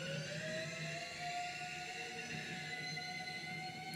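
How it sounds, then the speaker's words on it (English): Arctic icebergs rub against each other in polar waters, making faint, sustained creaking and groaning tones with slowly gliding pitches that continue unbroken for about four seconds. "this is the sound of Arctic icebergs literally rubbing against each other in the polar regions"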